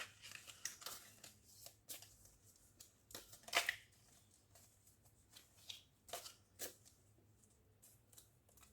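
Tea Leaf Tarot cards being shuffled and handled by hand, soft scattered papery riffles and slaps, faint and intermittent with quiet gaps between.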